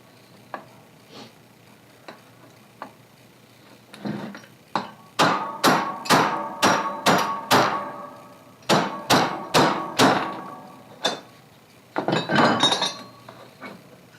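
Studs being hammered out of a coilover top hat, a run of sharp metallic strikes in quick, even rhythm after a few lighter taps, ending in a rattle of metal parts, close and loud.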